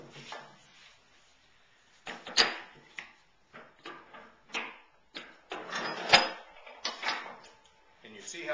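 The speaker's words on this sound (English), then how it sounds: "all I have to do is open up my vise" Grip-All jaws vise being opened on a workbench, giving a run of scattered mechanical clicks, scrapes and knocks, irregular and close, with brief pauses between the louder bursts.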